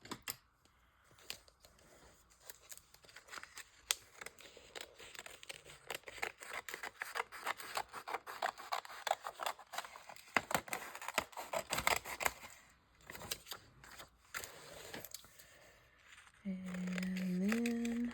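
Book pages being cut with large scissors: rapid snipping and crisp paper cutting continues for several seconds, close and fairly quiet, followed by a steady hum near the end.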